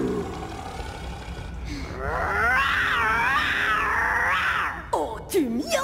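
A voice imitates a cat meowing, a long wavering mew held for a few seconds, loud and close, then breaking into a short high squeak, with a little talk before it.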